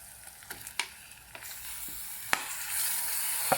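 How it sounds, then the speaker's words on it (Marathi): Prawns are dropped into a hot pan with tomato for prawn curry, giving a soft steady sizzle and frying hiss with a few clicks and stirring knocks, quiet and close, with no voices. "तर हे आपण कोळंबी टाकून घेऊया"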